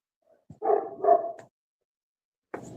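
A very old resident dog at an animal rescue gives a few gruff, close barks in quick succession, followed by a pause and a single further bark.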